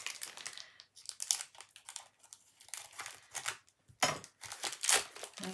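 Scissors cut and crinkle open the plastic packaging of Renshaw sugar paste up close, giving a run of quiet, irregular snips and rustles with short pauses between them.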